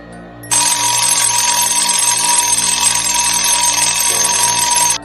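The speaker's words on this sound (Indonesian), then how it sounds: "Suara alarm dari telepon genggamku terdengar meramaikan pagi yang tidak sedamai biasanya." A mobile phone alarm rings loud and steady, a bright electronic tone repeating without a break for about four and a half seconds before it stops abruptly.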